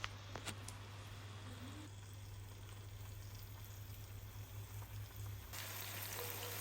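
Sliced tomatoes frying in vegetable oil in a pan, a quiet, steady sizzle and crackle with faint spattering pops and a low background hum throughout.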